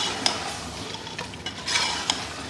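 Vegetables are stirred with vinegar in a pressure cooker pan for veg biryani, giving a close, continuous sizzle with quick scraping spoon strokes and a couple of sharper clinks.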